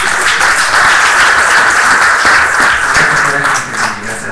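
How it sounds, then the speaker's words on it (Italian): An audience applauds at a small and medium business event, with dense, steady clapping that continues throughout and eases off slightly near the end. "Grazie per l'applauso."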